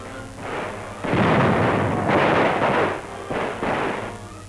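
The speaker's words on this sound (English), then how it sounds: "Pillboxes cleaned out with grenades." Grenade explosions clear out pillboxes during the wartime Okinawa landings, heard on an old newsreel. Several heavy, rumbling blasts follow one another, each swelling and fading into the next, loud and somewhat muffled.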